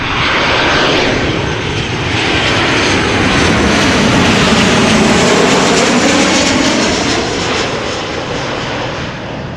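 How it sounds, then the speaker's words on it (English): A Transavia Boeing 737-800 arriving from Faro lands at Amsterdam Schiphol, its jet engines a loud, broad roar that swells to a peak and then eases off as it passes nearby. The roar stands alone, with no speech. "Transavia 737-800 arriving from Faro in Portugal. Safely landed."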